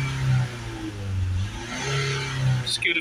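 Mercedes Vito 2.1 CDi diesel van engine, serviced for a soot-clogged particle filter fault, revved in a few rising and falling surges before settling, fairly close and moderately loud.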